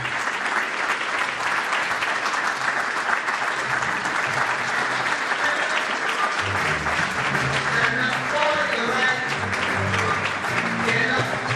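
Sustained applause from a banquet crowd at a Labour Day event, steady and dense throughout, with music or voices entering underneath partway through.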